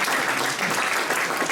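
A lecture audience applauds, a dense, steady wash of many hands clapping that fills the whole moment with no gaps, close and fairly loud.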